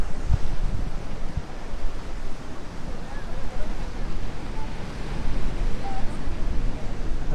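Strong wind buffeting the microphone along with crashing waves by the sea at a clifftop in Sydney, Australia, a loud continuous rushing roar with gusty swells throughout.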